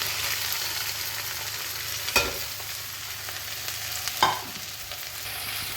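Drained lentils frying in a pan for dal muri, a steady close sizzle with two sharp knocks of a stirring utensil against the pan.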